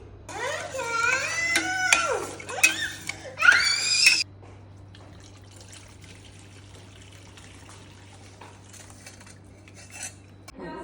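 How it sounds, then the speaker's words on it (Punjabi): Jaggery is stirred into water to dissolve it, with a spoon clinking and scraping against a vessel in quick rhythmic strokes for about four seconds, followed by quiet. "ਇਹਨੂੰ ਚੰਗੀ ਤਰ੍ਹਾਂ ਹਿਲਾ ਦਾਂਗੇ ਅੱਛੀ ਨਾਲ ਤੇ ਜਦੋਂ ਇਹ ਗੁੜ ਖੁਰ ਜਾਏਗਾ ਚੰਗੀ ਤਰ੍ਹਾਂ"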